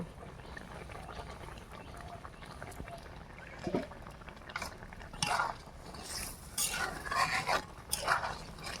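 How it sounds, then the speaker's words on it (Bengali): Milk and rice bubble in an uncovered pot with paneer and ground pepper, a soft, irregular pop and gurgle that grows busier and louder over the second half, with no voices. "কি সুন্দর খকবক করে জাল হচ্ছে।"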